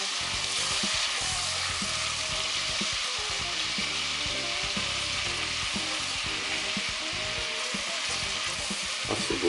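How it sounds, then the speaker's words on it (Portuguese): Garlic sautés in a hot pan with a loud, dense sizzle that crackles steadily throughout, close up and without talk. "E vamos refogar o alho. Não precisa dourá-lo muito."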